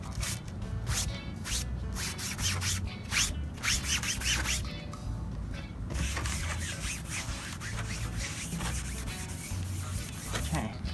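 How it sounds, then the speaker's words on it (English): Cloth rubbing and wiping across the freshly sanded surface of a skimboard to clear off debris and dust, a steady scratchy swishing with repeated strokes, fairly close and continuous. "We want to just wipe this down and just get rid of all the debris and dust."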